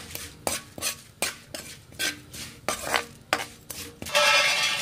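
Sesame seeds and spices being dry-roasted in a pan while a spoon stirs them, a steady run of scraping, clinking strokes against the metal, close and distinct, with a faint sizzle rising toward the end.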